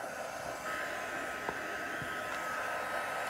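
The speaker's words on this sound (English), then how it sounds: "You don't need to wave it around like this with your heat tool." Heat tool blowing steadily to melt embossing powder on a steampunk canvas craft project, a continuous airy whoosh like a hair dryer holding at even loudness for a few seconds, with faint tapping underneath.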